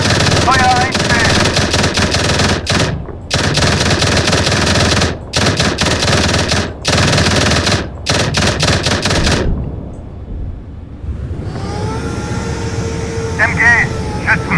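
A Bundeswehr vehicle's machine gun fires at infantry in loud, rapid bursts separated by short pauses, then falls silent, leaving a quieter engine hum.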